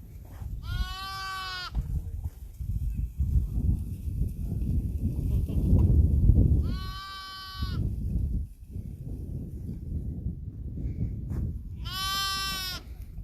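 Goats in a flock in the Saudi Arabian countryside give three loud, drawn-out bleats spaced several seconds apart, over a steady low rumble of wind and outdoor noise.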